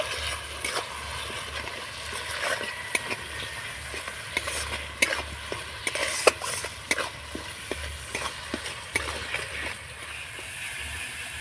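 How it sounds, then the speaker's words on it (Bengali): Spice masala with turmeric and red chili powder fries and is stirred in oil in a pan, giving a steady low sizzle broken by frequent scraping and clacking stirs throughout, with no talking. "এবার খুব ভালো করে মশলাটা কষিয়ে নেব"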